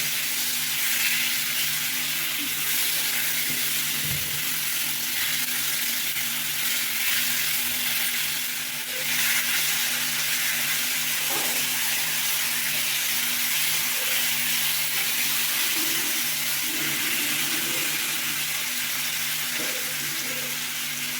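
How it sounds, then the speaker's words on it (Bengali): Parshe fish frying in a pan with turmeric, salt and spices, a loud, continuous close sizzle and hiss with occasional faint stirring scrapes, steady throughout with no talk. "সব কিছু ভালো করে মিশিয়ে একটু ভেজে নেব"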